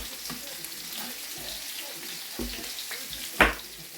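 Lamb loins searing in a hot pan give a soft, steady sizzle close by, with a few small clinks and one brief sharper knock near the end.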